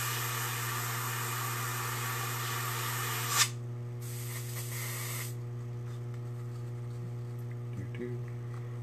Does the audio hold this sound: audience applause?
no